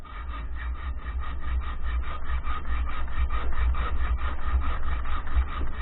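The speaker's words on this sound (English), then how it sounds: "You can come in with a hacksaw this way and do a small undercut on each side." A hacksaw cuts a small undercut into a piece of wood at a gunsmith's bench, giving steady, rhythmic rasping strokes close up. The sawing runs without a break for the whole stretch, with no one speaking.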